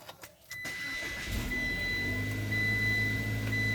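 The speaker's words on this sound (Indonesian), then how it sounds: "Ketika dalam posisi pagi seperti ini ya, mesin mobil masih dingin, itu kita hidupin nih." A cold car engine is started on a morning after a few soft clicks. The starter catches and the engine settles into a steady, close, raised idle hum that holds to the end.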